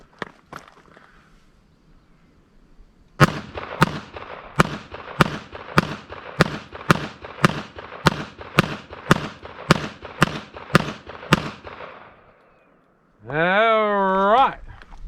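A rapid string of about fifteen sharp .22 Magnum pistol shots fired outdoors, evenly spaced and loud, followed by a brief sweeping electronic beep-like tone.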